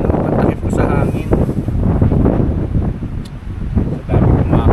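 Cold-weather wind buffets the microphone at a campsite during a motorcycle ride-and-camp trip while water is heated, a loud, steady rushing rumble that swells and eases, with a voice faintly under it.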